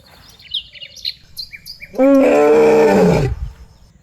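A lion roars loudly and close by in the Girnar forest, one deep, drawn-out roar lasting over a second that ends in a falling grunt, after faint bird chirps and a quiet background.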